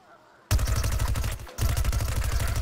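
Rapid Gatling-mode gunfire from a plant character in the shooter game Plants vs Zombies Garden Warfare bursts in after a quiet moment, a loud, dense stream of shots that briefly dips before resuming.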